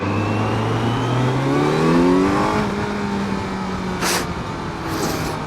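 A 2022 Kawasaki Z900 50th Anniversary Edition motorcycle engine accelerates, loud and close, its pitch climbing through the revs and then steadying, with wind noise throughout and a couple of brief rushing gusts near the end.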